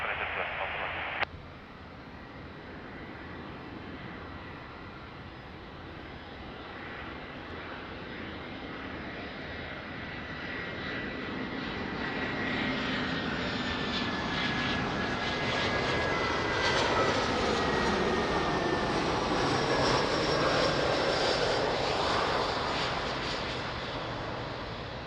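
Aircraft engines roar at Lisbon Airport, a sustained broadband jet rumble that slowly swells louder over the span and then eases slightly, with a brief radio-like burst at the start.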